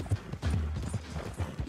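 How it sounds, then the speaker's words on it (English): Galloping horse hooves pound in quick, rhythmic clip-clop beats during a horse race in Red Dead Redemption 2, close and steady with no talk over them. "just a little horse race going on"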